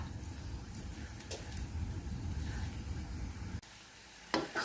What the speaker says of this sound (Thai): แล้วค่อยผัดไปเรื่อยๆให้น้ำแห้งนะคะ